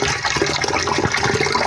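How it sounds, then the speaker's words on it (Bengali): Running water splashes and gushes steadily as lentils are rinsed in a home kitchen, loud and close with no talking. "এখন ডালটাকে ভালো করে ধুয়ে নিব"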